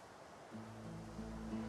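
Ocean waves rolling in the video game Divinity: Original Sin 2, a soft continuous surf wash joined by a low steady tone, quiet and without speech.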